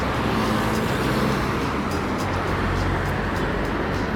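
Steady car traffic along a coast road in Dakar, Senegal, a continuous broad roadway rumble with no single vehicle standing out, fairly loud and constant throughout.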